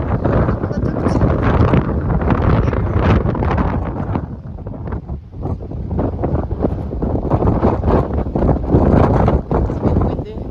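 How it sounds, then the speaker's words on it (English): Strong gusts beside a lake outside Loutraki buffet the microphone, producing a loud, continuous rumbling roar that surges and dips for the whole stretch. "It's a bit windy."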